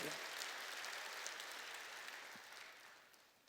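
Broad, steady clapping from a church congregation during a sermon fills the space, gradually fading toward the end.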